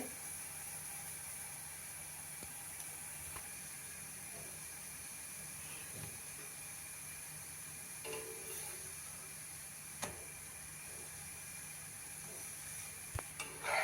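Paratha made with radish sizzling in oil on a pan, a faint steady hiss with small crackles and occasional clicks, quiet and close with no talking.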